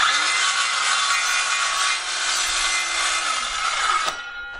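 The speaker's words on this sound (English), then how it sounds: "check out this little trick for carrying out a perfect right angle cut using your circular saw." A circular saw makes a right-angle cut through wood, guided along a rafter square. A loud, steady high whine rides over the motor hum, then stops abruptly near the end.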